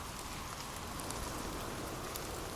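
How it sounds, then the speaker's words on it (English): Rain falls steadily in a dense, even hiss of drops on a surface, soft and continuous with no voices or other sounds. "enjoy our rain sounds in the background"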